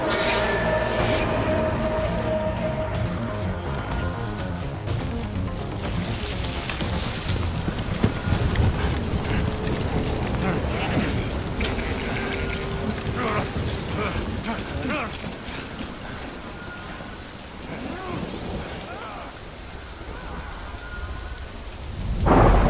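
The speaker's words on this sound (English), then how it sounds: "Good thing it was raining." Heavy rain pours steadily in the video game Death Stranding as thunder rolls and cracks, a dense, continuous wash of falling water with deep rumbles rising and fading throughout.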